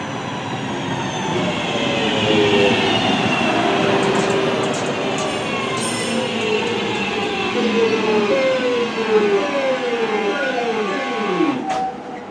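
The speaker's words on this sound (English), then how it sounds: "we are waiting for my train now to arrive" A train rolls into a station with a steady rumble, its brakes and wheels squealing in descending tones as it slows to a stop nearby.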